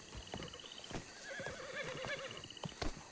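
A horse in the WildRP video game whinnies several times amid soft clip-clopping hooves, fairly close but quiet, with no talk over it.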